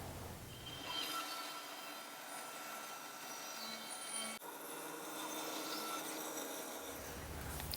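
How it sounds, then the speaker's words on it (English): A bandsaw in a woodworking shop cuts out a wooden piece. A steady, close whine and rasp of the blade running through wood holds for several seconds, with a brief knock partway through the cut. "I'm going to head over to the bandsaw and cut this out."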